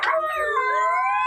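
Dogs and jackals howling at night in a village, several long wavering howls overlapping and rising and falling, fairly close and sustained with no talk.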